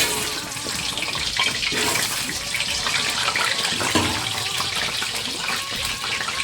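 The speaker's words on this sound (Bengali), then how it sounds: "তেলটা গরম হয়ে গেছে, আমি প্রথমে আলুটা ভেজে নেব।" Potato pieces frying in hot oil in a pan for a Bengali chicken and potato curry, giving a steady, loud, hissing sizzle that continues throughout.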